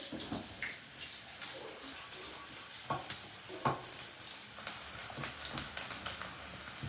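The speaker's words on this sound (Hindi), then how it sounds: "साथ साथ हम अपने साग को भी हिलाते चले जाएंगे।" Saag (mustard greens) stirred in a pan as it cooks, giving a steady sizzle and bubbling hiss broken by soft scraping strokes and occasional clinks of the spoon.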